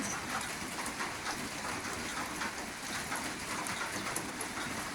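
Rain falls steadily in a dense, even hiss, with faint patters of drops throughout.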